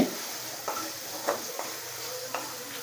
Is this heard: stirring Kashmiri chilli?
yes